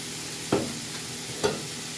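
Four turkey burgers fry in a 10-inch cast iron skillet with a constant close sizzle, broken by two brief scraping or pressing knocks.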